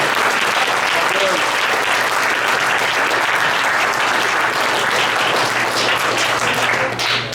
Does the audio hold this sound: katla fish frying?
no